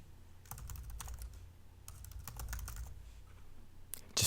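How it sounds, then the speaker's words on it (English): Fingers type on a computer keyboard in quick, irregular bursts of close, soft clicks while a name goes into a web form, with brief pauses between runs of keystrokes. "Just typing my name in here."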